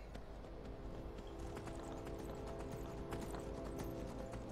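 Horse hooves clip-clop in the video game Skyrim, a steady, close rhythmic trotting that carries on throughout the clip.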